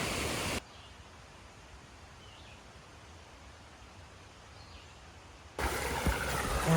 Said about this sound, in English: We're back at the stream.